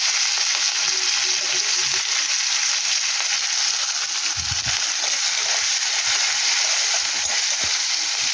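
Chopped onion and green chillies frying in hot oil in a pan for a katla fish curry, giving a steady, close, continuous sizzle throughout without speech.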